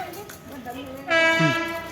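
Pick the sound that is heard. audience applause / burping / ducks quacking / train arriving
train arriving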